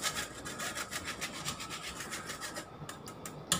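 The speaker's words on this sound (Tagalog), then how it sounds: "Laging hahaluin kasi babagsak siya sa ilalim." Puto batter being stirred in a bowl gives close, rhythmic scraping strokes, several per second, repeating evenly with brief pauses near the end.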